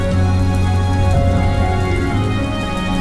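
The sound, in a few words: rain falling on the street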